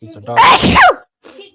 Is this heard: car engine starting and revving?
no